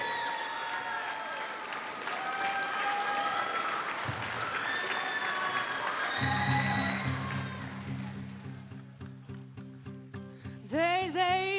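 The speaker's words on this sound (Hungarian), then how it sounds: "Tapsoljuk meg még egyszer!" An audience at the final of the Fehérvár Hangja singing contest claps in sustained, dense applause. About halfway through, a musical accompaniment enters and grows louder as the clapping thins into scattered rhythmic claps, with a brief burst near the end.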